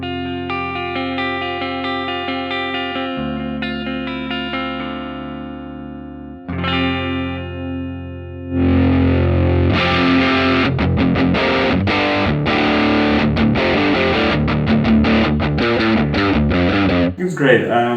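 Clean electric guitar through a Fender-style amp model on a Line 6 Helix: sustained ringing chords and single notes at first, then busier strummed and picked passages, loud and upfront with a touch of echo.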